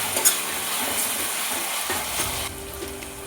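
Chopped coriander and mint leaves fry in a hot pan for mushroom pulao, giving a steady close hiss and sizzle with soft scraping stirs and a few light clinks of a utensil against the pan.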